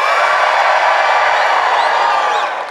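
Large crowd cheering on cue at a Christmas celebration event: a loud, sustained roar of whoops and yells that holds steady and then tapers slightly at the end.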